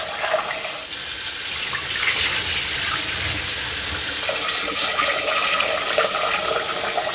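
Rice rinsed in a bowl under a running tap for pork sinigang, a steady close rush of water with swishing and splashing throughout, no talking.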